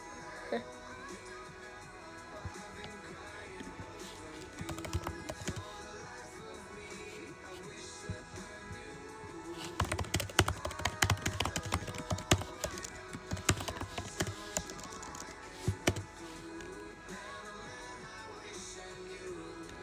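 Fast clicking and clattering from a computer keyboard comes in bursts, densest in the second half, over steady background sound with faint talk at times.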